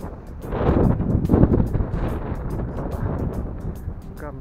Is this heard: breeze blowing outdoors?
yes